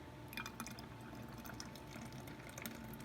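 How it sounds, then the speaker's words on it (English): Clumpy baby doll food mixture poured into a bottle: a steady, close liquid trickle with small splashy drips throughout, fairly quiet, no talking. "But now I'm just going to pour this in here."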